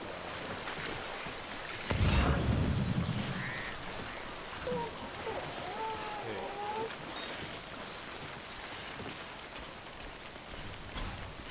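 Steady video-game rain hisses throughout in Death Stranding, with a louder burst of downpour near the start and faint water-like warbles scattered through the middle.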